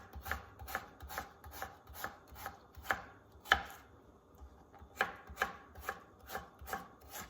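A knife chops a garlic clove on a cutting board in quick, uneven bursts of crisp, close taps, with a short pause midway before the cutting resumes.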